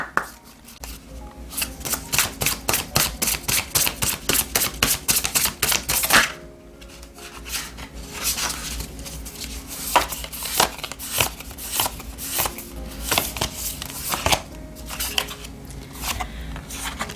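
Tarot cards are riffled and shuffled in a rapid run of crisp, evenly spaced flutters for several seconds, followed by slower irregular slaps and flicks as cards are cut and drawn, close up with no talking.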